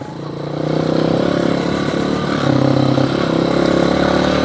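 A Skybike Liger 2 motorcycle engine drones loudly and steadily while riding uphill in third gear, its note rising and swelling partway through.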